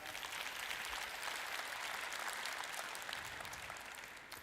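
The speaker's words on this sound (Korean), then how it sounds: "그분들께 박수를 한번 보내주시지 않으시겠습니까?" A conference audience gives a sustained round of applause, dense, even clapping that stays strong for the full stretch with no talking over it.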